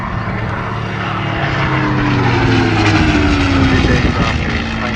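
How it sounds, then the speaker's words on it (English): A vintage propeller fighter-bomber painted in wartime markings roars past at the Newcastle air show, its engine drone loud and steady with a falling pitch as it passes close overhead. "This aircraft is painted up as AC-750, flown by Squadron Leader Susans"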